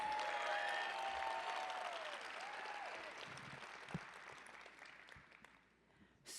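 Audience applause at a Hall of Fame ceremony for Illini Athletics, a sustained crowd clapping that starts full and gradually tapers off, with a few whoops early on.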